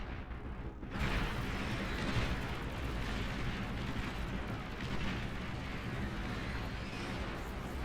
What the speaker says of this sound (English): Everyone's just lobbing missiles at each other.